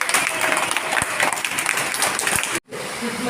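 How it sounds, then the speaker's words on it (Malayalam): Broadband clapping from a school audience at a Basheer Day event at Government LP School, Pullut, filling the room steadily for over two seconds before cutting off abruptly, then a faint murmur. "നല്ലൊരു ക്ലാപ്പ് കൊടുത്തില്ലായിരുന്നു"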